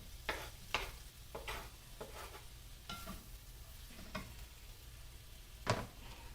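Chopped tomato and onion stirred in a pan for cauliflower rassa bhaji, giving a faint, steady sizzle broken by several soft scraping strokes spaced a second or so apart, with no one speaking.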